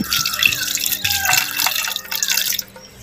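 About 200 ml of water is poured onto beef pieces in a pressure cooker, a close, continuous splashing pour with trickling and dripping as it tapers off.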